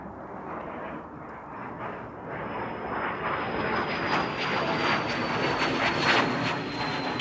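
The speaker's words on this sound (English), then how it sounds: "fancy jet music" A jet aircraft roars in an aviation podcast's intro, a loud, continuous broadband rush that swells gradually as if passing close overhead, heard alone without speech.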